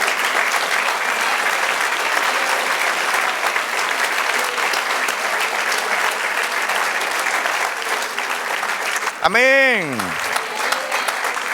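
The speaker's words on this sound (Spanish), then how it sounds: "Denle un aplauso al Señor." Applause fills a church service, a steady crowd of hands clapping throughout, with a brief spoken word from a voice near the end.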